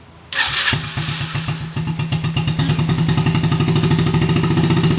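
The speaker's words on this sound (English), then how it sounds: "going to turn the motorcycle on" A Yamaha TTR90 dirt bike fires up on its electric starter after a brief cranking whir, then settles into a steady, rapid single-cylinder idle close by, loud and alone.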